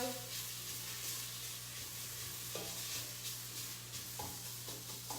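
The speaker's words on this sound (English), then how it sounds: "All right, let's mix up that tomato." Tomato paste being stirred into onions and spices frying in a pan, a steady sizzle with soft scraping stirs throughout, close and continuous.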